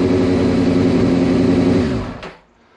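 Honda CBR600 F4i motorcycle engine revving steadily at high RPM, a loud, sustained close-up roar that holds for about two seconds, then drops away quickly to a faint idle.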